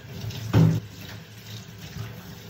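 Tap water rinsing a silkscreen in a sink: a short, close splash of running water about a second long, over a quieter background of faint trickling.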